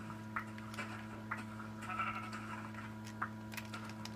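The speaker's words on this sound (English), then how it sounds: "I'm just gonna kill this sheep." Sheep in the Minecraft video game make several short bleats and clicks at irregular intervals, fairly faint, over a steady low hum of game background sound.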